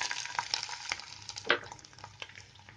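Cashews and pistachios roast in hot desi ghee in a pan over a low flame, giving soft, steady sizzling and crackling with scattered stirring scrapes, close and fairly quiet, with no voices.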